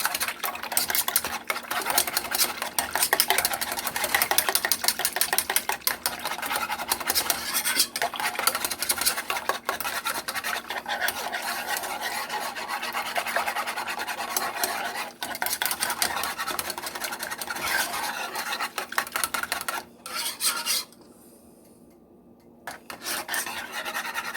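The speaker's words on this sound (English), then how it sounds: "Mix that egg in." A whisk scrapes briskly and rhythmically against a pot as egg mixture is beaten into a butterscotch pudding, making a steady, close rasping. The noise stops briefly near the end and then starts again.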